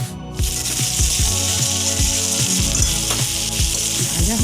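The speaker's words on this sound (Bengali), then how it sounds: "আবার এটাকে ভালো করে নাড়াচাড়া করে একটু সামান্য লাল লাল হওয়া অবধি ভেজে নেব" Vegetables frying in hot oil in a kadai with turmeric powder and salt for a drumstick and pointed gourd curry, a steady loud sizzle throughout with stirring scrapes and no voices.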